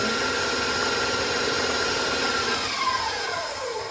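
A KitchenAid stand mixer works molasses into a dough, its motor giving a loud, steady whirring drone that holds constant and dips slightly near the end.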